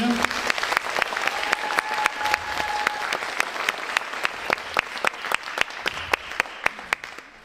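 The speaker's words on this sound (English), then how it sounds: "we give another round of applause to our two student conductors" A high school audience at an instrumental holiday concert applauds student conductors, a steady wash of clapping with a few sharp, distinct claps standing out near the microphone and a brief voice early on.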